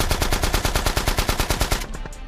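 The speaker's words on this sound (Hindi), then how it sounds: "अरे बंदूक की गोली कहाँ से आ रही है?" Rapid automatic gunfire in a video game, a loud, close, evenly spaced burst of shots lasting about two seconds before breaking off, heard alone.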